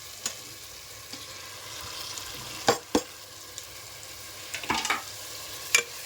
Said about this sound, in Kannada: ಟೊಮೊಟೊನ ಚೆನ್ನಾಗಿ ಬೇಯೋ ಥರ ಫ್ರೈ ಮಾಡಿ.